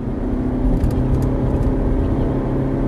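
A Ferrari engine drones steadily and loudly from inside the car while driving, a continuous low mechanical hum with no clear rise in pitch and no speech.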